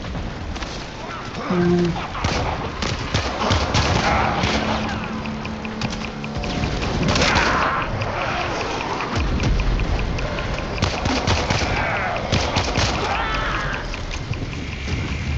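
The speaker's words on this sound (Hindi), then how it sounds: "यहाँ पे मैं ये लाटो की गन यूज करूंगा" Lato pistol fire in the video game Warframe, rapid sharp shots among dense game effects, whooshes and explosions, with someone talking briefly over the action.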